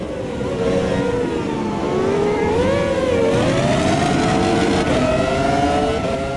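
V10 Formula 1 car engine in the Automobilista 2 racing game, a loud continuous high-pitched engine whine rising and falling with gear changes and throttle, steady and up close throughout.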